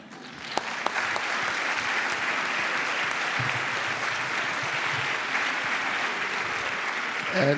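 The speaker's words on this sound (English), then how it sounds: "Sorry, why are you clapping your hands?" An audience at a medical symposium on bone and joint infections claps hands in sustained, even applause that fills the room for several seconds, with a couple of sharper claps near the start.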